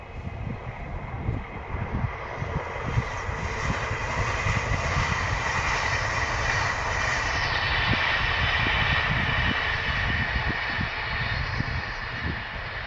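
A train rumbles steadily past beside a railway line near a vegetable plot, a continuous loud roar with clattering wheels holding for about thirteen seconds, no voices.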